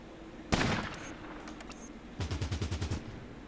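Gunfire in the video game Fallout Tactics: a single sharp shot with a trailing echo, then a quick burst of about eight rapid automatic rounds a moment later, fairly close and with no talking.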